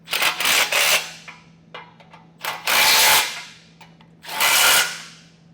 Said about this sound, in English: We can snug up the side bolts now using a 3/4 inch socket and wrench.